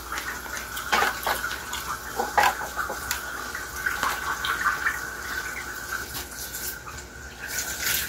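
Strawberries rinsed one at a time under a running tap, a steady mid-level water stream with intermittent louder splashes and handling knocks as the fruit is turned in the flow.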